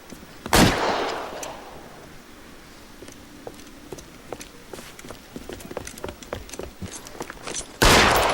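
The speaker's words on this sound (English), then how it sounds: "Hey, look, old man, we're sorry. Just quit shooting." A loud gunshot blast opens, then a run of lighter, evenly spaced footsteps or hoof-like thuds, and another sharp shot at the end, all from the video game L.A. Noire.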